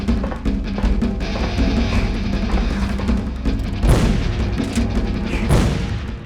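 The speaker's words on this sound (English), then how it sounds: "this gun just sounds so muted" A gun firing in the video game Jurassic: The Hunted, dull muted booms landing a couple of times over a dense rumbling game background.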